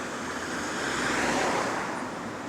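A bus engine with a small exhaust leak rumbles and hisses on the route, a steady broadband roar that swells slightly in the middle, heard up close with no talking.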